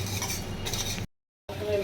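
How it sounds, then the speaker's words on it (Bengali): Spices dry roasting in a pan for homemade masala, stirred with a utensil that scrapes and clinks against the metal, a steady close rustle that cuts out briefly before resuming. "এটা সুন্দরভাবে ডাই রোস্ট হচ্ছে একটা সুন্দর গন্ধ বেরিয়েছে"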